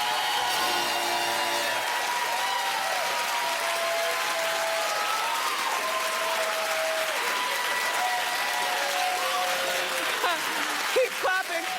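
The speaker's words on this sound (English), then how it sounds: "Keep clapping." A talk show studio audience claps steadily and loudly throughout, a dense continuous wash of applause while voices and show music carry faintly underneath.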